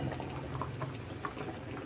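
Soft, continuous bubbling of a pot of mung beans at a boil, faint and even, with no voices.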